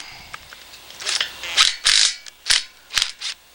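Bolts on a rotary screen bearing flange get snugged up with a ratcheting tool. Close, quick metallic ratchet bursts come in short irregular clusters over a quiet background.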